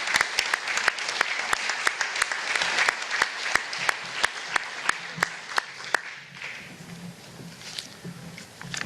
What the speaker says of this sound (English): Give him a round of applause for what he does for this community.